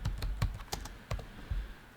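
Someone types a name on a computer keyboard, a quick run of close, distinct key clicks at an uneven pace with no voice over them.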